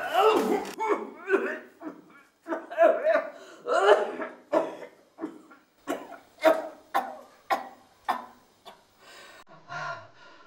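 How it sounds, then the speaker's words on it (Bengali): Someone coughs again and again in short, harsh bursts close up, with raspy breaths between the fits. "মরার কাশিটা"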